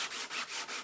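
Fine sandpaper is drawn back and forth in quick, even strokes over a chalk-painted surface, giving about four close, rhythmic scratchy rubs with no talking.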